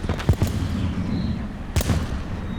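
Gunfire aimed at infantry in the Total Tank Simulator game, two short bursts of sharp shots a second and a half apart over a low rumbling background.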